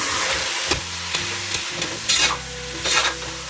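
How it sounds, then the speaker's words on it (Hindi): Chicken fries in a pan while being stirred, a constant loud sizzle with several scraping bursts from the spoon, close up and with no voices. "और इस चिकन को मैं फ्राई करूँगी"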